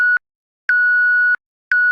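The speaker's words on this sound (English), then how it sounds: "So now you can hear the cutoff and the resonance is causing that sine, that very high-pitched sine." MiniBrute synthesizer self-oscillating at high resonance, producing a high-pitched pure sine tone in three steady gated pulses with clicks at the starts and ends, loud and alone.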